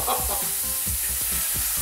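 Zucchini pasta sizzles and fries in a saucepan, a loud steady hiss with soft stirring scrapes close by.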